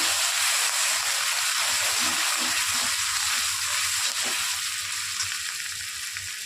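Pointed gourd sizzles steadily in hot oil with ginger in a pan, a close, continuous bright frying hiss with occasional stirring scrapes, no voices over it.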